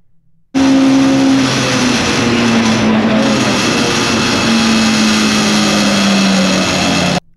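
Car lapping the Goodwood circuit, heard as a loud, close, steady engine drone with a sustained tone that shifts slightly in pitch as it holds speed, starting suddenly after a moment of quiet.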